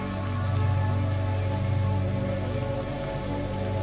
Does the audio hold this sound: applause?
no